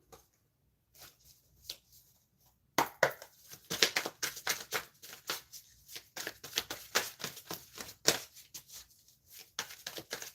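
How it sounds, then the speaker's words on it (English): Tarot cards being shuffled by hand, a quiet start, then rapid, close riffling and flicking bursts in an irregular rhythm, with no talk. "Let me start shuffling."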